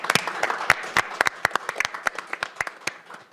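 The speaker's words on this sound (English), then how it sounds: "Please join me in a round of applause." Sparse hand clapping from a small group at a county council meeting, uneven individual claps close by, no cheering.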